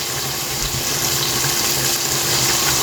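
Water from a tap fills a jar holding leftover liquid from cooking chicken tikka masala, a steady close hiss and rush with no voices.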